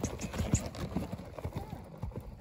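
A horse loping, with rhythmic clip-clop hoofbeats in a steady three-beat pattern, fairly close and moderately loud against light background noise.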